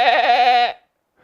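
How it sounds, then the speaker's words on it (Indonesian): A single goat bleats close and loud with a wavering, vibrato cry for under a second, then stops into silence. "Ada suara kambing."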